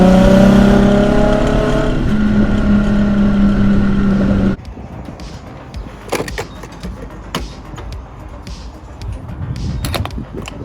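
Nissan Z car moving on the road, a loud engine drone with steady harmonics for several seconds, then dropping to quieter road and cabin noise with scattered clicks and knocks.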